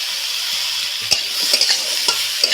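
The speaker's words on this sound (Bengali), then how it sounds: "এখন এই ক্যাপসিকাম পেঁয়াজ টমেটো একটু কষিয়ে নেব" Capsicum, onion and chopped tomato sautéing in a pan with turmeric, a steady bright sizzle running throughout, broken by several sharp scrapes and knocks of a spatula stirring close by, no voices.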